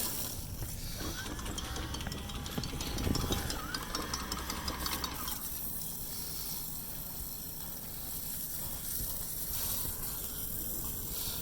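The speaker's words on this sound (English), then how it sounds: "there we go. That's the washdown pump." A boat's washdown pump runs steadily at a marina before leaving Key West, a continuous mechanical hum and whir with some rattling in the first half, then a smoother, quieter drone.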